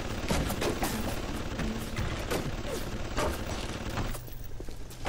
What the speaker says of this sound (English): Something's being shot up there.